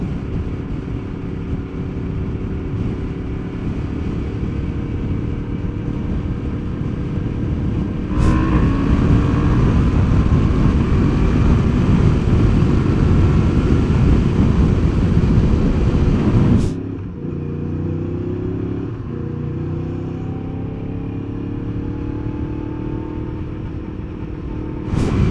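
Inside a Bell Race Star DLX Flex helmet on a moving motorcycle, a loud continuous roar of wind and engine rumble builds as speed rises, then eases to a lower steady drone; no talking.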